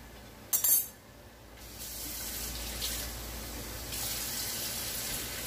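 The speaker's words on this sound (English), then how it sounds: "so I can add water to this." Water runs from a tap into a barbecue sauce bottle, a steady rushing stream lasting several seconds after a brief clatter at the start, close and fairly loud.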